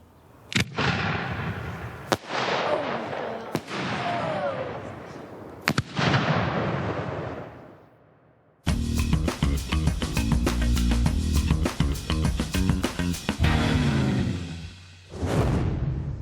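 A firework cake of individual tubes fires: several sharp separate bangs early on, then after a short gap a dense rapid crackling volley of launches and bursts lasting several seconds, ending with one final burst; loud and close.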